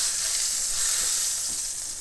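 A burger patty fries in oil inside a covered pan, giving a steady, bright sizzle that holds evenly from start to finish with no voices.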